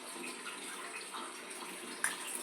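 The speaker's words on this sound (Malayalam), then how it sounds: "ഇനിയും വെള്ളം ഒന്ന് ഒഴിച്ചു കൊടുക്കണേ" Water is poured into a pan of onion theeyal as it cooks, a steady soft splashing hiss that runs evenly throughout, fairly quiet, ending with a small clink.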